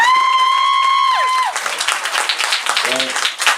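Audience applause at a live band show in a small Taipei venue, a broad wash of clapping that builds as a sung or held note fades, with a brief voice cutting in near the end.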